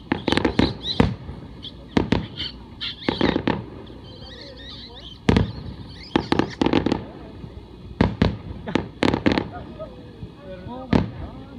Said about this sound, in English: I'm in the middle of recording the fireworks